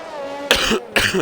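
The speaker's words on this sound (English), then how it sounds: "Oh, bit of a nasty cough tonight, folks," Two sharp, loud coughs close to the microphone, about half a second apart, following a quiet stretch of low background hum.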